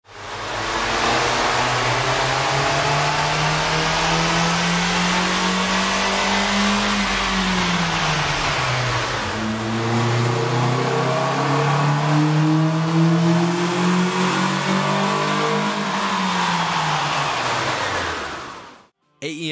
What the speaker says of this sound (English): Here's a comparison of the car's sound on the dyno with the stock OEM system versus AEM's air intake.